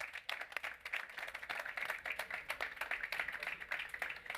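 Applause at a talk on sustainable ocean development, a steady patter of hand claps from an audience, moderately faint and continuous throughout with no voices over it.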